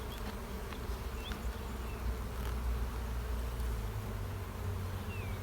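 Honey bees buzz over a brood comb in a hive during spring build-up, a steady dense drone close by with no voices.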